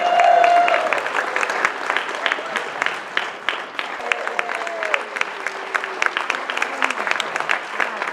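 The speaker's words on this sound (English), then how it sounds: "Clap your hands, please." Comedy club audience applauding, a dense, steady wash of clapping that carries on for several seconds with faint voices and a few whoops mixed in.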